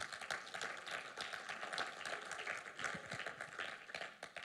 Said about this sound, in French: Quelqu'un ici acclame Jésus.